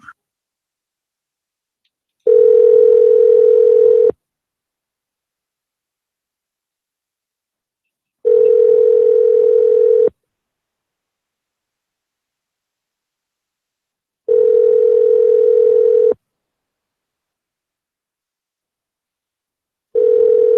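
Telephone tone after hanging up the call, loud steady beeps about two seconds long repeating every six seconds with silence between, four in all.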